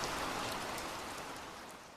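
Steady, dense rain pours down throughout, a close, even hiss of drops on surfaces that fades slightly toward the end, with no voices.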